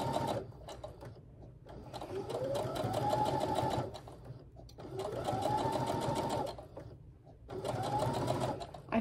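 A sewing machine stitches fabric pieces for a wavy woven scrap quilt, running in three steady whirring bursts separated by short pauses, close and fairly quiet.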